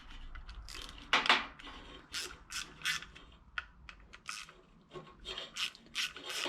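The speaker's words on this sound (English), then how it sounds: "So just take out these two screws." Tiny torx screws being backed out of a 2005 Duramax fuel filter head, a run of short scraping, ratcheting bursts close to the mic, irregular and fairly loud.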